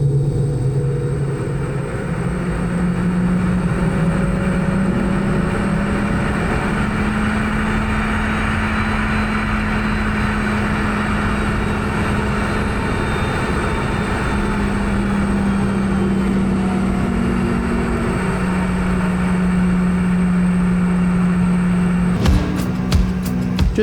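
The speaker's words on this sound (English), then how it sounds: "I'll let you hear these engines fire up" Loud, steady roar of Boeing 717 airliner jet engines starting up, a deep rising drone that holds for nearly the whole clip, close by and alone, ending in a few clicks.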